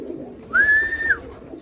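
A single drawn-out racing pigeon call, a smooth steady coo-like tone lasting about half a second, close and clear over a soft low rumble.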